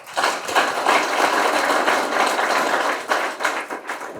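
An audience at a prison chess program launch applauds, a dense, sustained wash of hand clapping that swells and holds, then thins into scattered claps near the end, with no speech.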